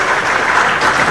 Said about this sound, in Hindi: जोरदार तालियां आप लोग बजाइए।